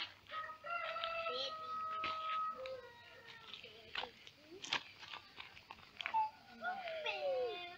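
Rooster and chickens at a rural farm with cows and goats near Imotski, Croatia, crowing and clucking in a series of calls, fairly close and moderately loud, with other faint farm sounds between them.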